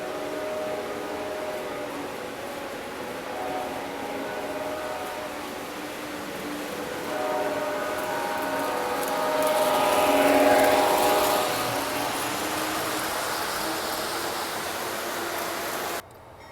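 A train passes at full speed through a railroad Christmas light display, a loud rushing roar with a steady whistle-like tone that swells toward the middle and then cuts off abruptly.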